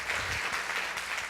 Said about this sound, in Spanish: Aplaudir a Deus.